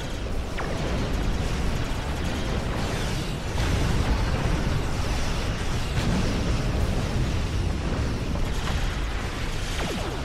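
Phaser weapons firing with overload in the Star Trek Online game, a dense, continuous barrage of crackling energy bursts and booming impacts throughout, loud and unbroken.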